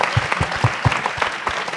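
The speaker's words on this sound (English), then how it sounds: "let's give another round of applause to the children here who performed amazingly" An audience claps for the children who performed dance at a film opening night, distinct individual claps close by in an uneven rhythm over a room murmur.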